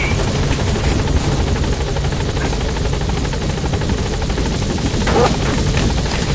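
A helicopter arrives at a landing zone in Metal Gear Solid 5, its loud rotor chop thumping in a fast, continuous rhythm close by, with faint voices underneath.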